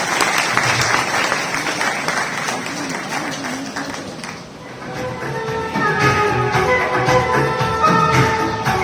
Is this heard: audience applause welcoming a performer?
yes